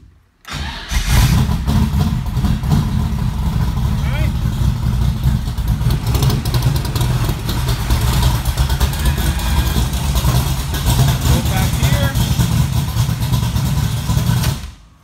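A car engine cranks and catches right away, then settles into a steady, loud idle that runs unbroken for the rest of the clip. The car has a Moroso battery disconnect switch fitted.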